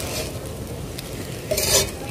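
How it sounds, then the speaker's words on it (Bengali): Chowmein tossed with chowmein masala in a pan over a clay stove on a rooftop, with steady scraping stir strokes over a continuous sizzle and a louder burst of frying near the end. "মশলাটা আমি ভালো করে মিশিয়ে দিলাম।"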